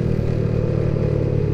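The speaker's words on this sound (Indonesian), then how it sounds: "yaitu motor 250 cc tapi 4 silinder" Kawasaki ZX25R, a 250 cc four-cylinder motorcycle, running with a steady dense engine drone and faint clatter, loud and close throughout.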